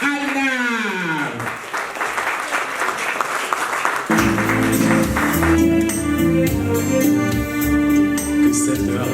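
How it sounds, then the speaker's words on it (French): A live audience at a fundraiser bursts into warm applause, dense steady clapping that swells and carries on under a presenter's voice, then continues as music begins beneath it. "je vous demande d'applaudir chaleureusement Monsieur Charles Alnard."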